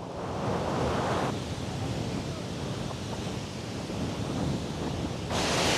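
Water at the Bhoot Chhanga waterfall in Sindhupalchok rushes in a loud, steady roar with no break, heard close up with some wind noise and no voices.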